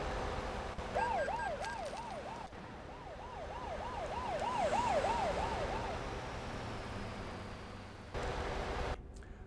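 A police car siren in Euro Truck Simulator 2 wails in a rapid rising-and-falling cycle for several seconds over a low truck engine rumble, then cuts off, leaving road noise.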